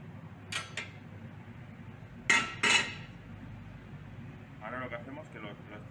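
A utensil scraping the walls of a cooking pot while making arroz con leche: a few short, sharp metallic scrapes and clinks, spaced apart, with a low kitchen hum and some faint rustling near the end.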